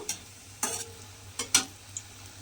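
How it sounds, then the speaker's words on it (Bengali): A few sharp scrapes of a utensil turning khesari dal pakoras deep-frying in hot oil, with faint sizzling between them and a low steady hum underneath. "সমস্ত পকোড়াগুলো এইভাবেই কিন্তু উল্টে পাল্টে লাল লাল করে আমি ভেজে নেব।"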